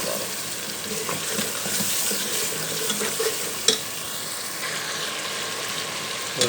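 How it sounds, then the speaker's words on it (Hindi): Beef pieces frying in cooked masala in a pan, a steady close sizzle with continuous stirring and scraping throughout, and a couple of sharper knocks of the spoon. "अब इसमें डालेंगे हम बीफ।"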